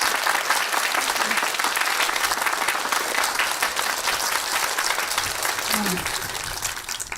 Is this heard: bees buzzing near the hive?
no